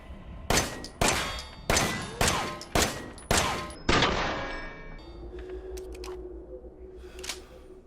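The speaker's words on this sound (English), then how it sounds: "so let's go ahead and test the handgun out." An M19 handgun firing in Resident Evil 7, six sharp loud shots at an even pace, each ringing briefly, followed by a quieter metallic click and a low hum.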